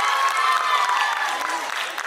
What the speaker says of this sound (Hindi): उनके पेरेंट्स के लिए भी एक बार जोरदार तालियां